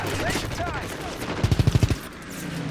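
Gunfire in the video game Call of Duty WWII, a quick burst of about seven evenly spaced automatic shots over a noisy battle background.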